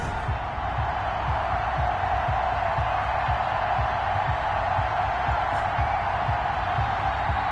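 Stadium crowd noise in an NFL video game on PS4, Buffalo Bills versus New York Jets, a steady loud roar of cheering fans that holds throughout, with no speech over it.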